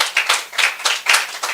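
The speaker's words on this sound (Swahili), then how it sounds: "nataka mjipigie makofi" Audience at a real estate promotion event clapping for AMG Realtors, a bright, rapid burst of hand claps that swells and dips in short waves, close and fairly loud.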